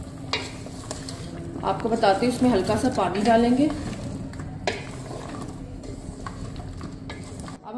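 A spoon stirs potato curry (aloo bhujia) in a pan over the heat, giving a steady scraping and sizzle throughout, while someone talks over the middle section.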